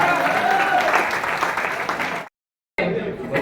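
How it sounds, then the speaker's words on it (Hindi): Applause from a live audience at a stage comedy show in Mandsaur, loud and steady for about two seconds, then a short complete silence before the clapping resumes. "जोरदार बड़ी तालियां"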